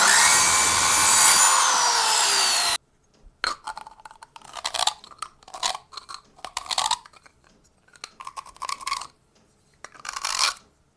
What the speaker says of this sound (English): So we're going to start off with cutting this down and then slotting it.